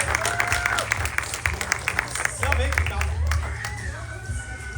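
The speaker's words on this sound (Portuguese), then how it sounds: "palmas muito forte pra ela, gente." A church congregation applauds through the clip, steady clapping over background music, with people talking over the applause.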